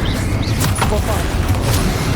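Bombarda blasting spell going off in Hogwarts Legacy combat, a few muffled booming bursts over a dense, continuous low rumble of battle noise.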